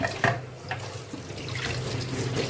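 Tap water runs steadily into a kitchen sink while hands are washed during home cooking, a close, continuous splashing rush with small irregular splashes and no speech.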